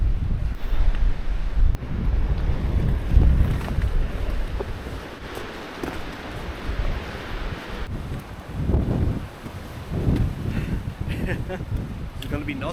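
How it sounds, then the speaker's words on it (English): Strong gusting wind buffeting the microphone on a mountain trek in the Galtee Mountains, a loud continuous roar that rises and falls throughout. "Oh my god, it's windy as hell."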